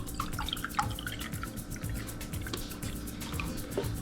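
Apple juice pours from a cup into a bowl with a soft, steady trickle and scattered small drips, close and quiet, with no talk.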